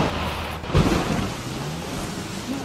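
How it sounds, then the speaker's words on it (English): A summer thunderstorm in Rio with steady rain, a low rumble of thunder swelling near the start and fading into a continuous wash of downpour, fairly loud and alone. "It's summer storms."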